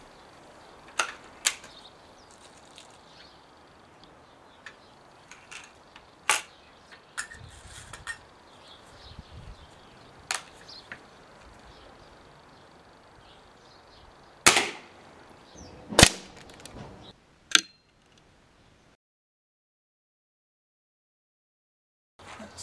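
A Remington air rifle fires lead ball pellets in sharp, isolated cracks, about half a dozen spaced shots with quiet gaps between them.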